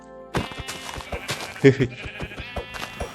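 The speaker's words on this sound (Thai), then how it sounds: "ต้องจัดการน้องแกะเป็นอาหารแล้ว" Sheep bleating in Minecraft, a few short nasal bleats standing out over game music and background clatter, fairly close and moderately loud.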